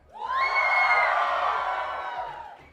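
Students of CCH Naucalpan shout and cheer together as a crowd, a loud sustained roar that swells quickly, holds for about two seconds and then fades.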